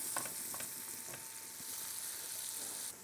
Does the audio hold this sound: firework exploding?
no